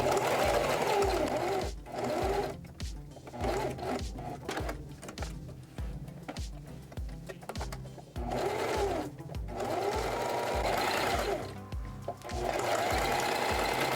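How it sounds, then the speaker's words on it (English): A sewing machine runs in steady bursts, stitching wool peacoat pieces together at the corners, with a loud continuous whir that pauses briefly a few times before resuming. "I'm going to sew these together with the front facing upward to make sure that I sew these corners nice and neat."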